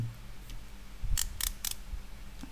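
The aperture ring on a manual-focus camera lens is turned, a few crisp, close mechanical clicks in a quick cluster against a quiet room background.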